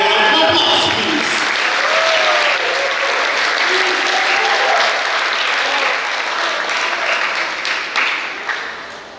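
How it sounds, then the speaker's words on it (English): Sustained audience applause at a high school graduation ceremony, a dense crowd clapping loudly for several seconds before tapering off. "Let's give it a round of applause, please."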